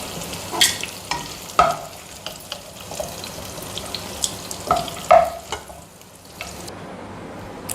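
Bitter gourd stir-fried in a pan for sambar: steady sizzling with repeated sharp spatula scrapes and clinks against the pan, close and fairly loud, no voices.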